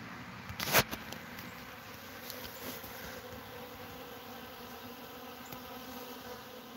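Honeybees swarm around a pollen tube in a bee yard, making a continuous, fairly faint buzzing hum with a brief louder knock near the start and no speech.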